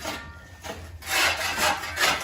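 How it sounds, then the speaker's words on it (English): Workers scrape the surface of a swimming pool in Phoenix, Arizona, with repeated rough rasping strokes in a loose rhythm, the later ones louder and closer, and no speech. "Yeah, they're scraping the pool."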